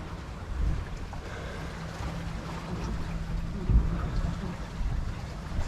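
Wind rushes steadily past a sailboat under sail in a light breeze, a faint, broad hiss with soft low gusts and water movement beneath, and one brief low bump partway through.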